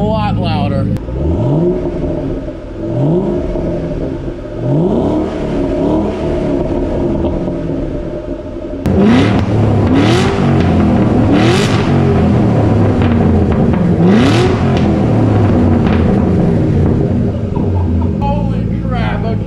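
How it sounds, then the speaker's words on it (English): A brand-new Ford Mustang GT500 with its mufflers sawed off revs repeatedly, deep rising exhaust roars in a steady rhythm, heard loud and close from outside with a louder second half. "We've done a lot of videos where we've cut the muffler off of a vehicle on the channel, but this is definitely the loudest by far."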